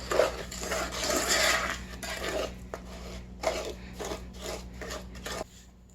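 Sugar is stirred into peanut butter cookie dough in a bowl, making gritty scraping and rubbing strokes in uneven bursts, close up and fairly loud, with no voices and a low steady hum underneath.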